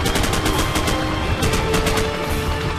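Rapid automatic gunfire in Call of Duty Modern Warfare, a dense run of loud, closely spaced shots with no pauses, up close and with no talking.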